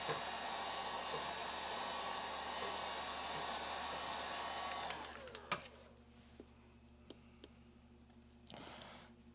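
A heat blower warming a label on a Rainbow D2 power nozzle vacuum during a repair gives a steady, close airy roar for about five seconds, then cuts off, leaving a few light clicks and handling taps.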